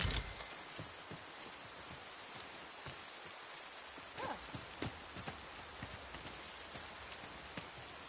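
Steady rain falls in a video game, Dragon's Dogma 2, a constant wash of patter with scattered louder drops landing close by, alone without voices.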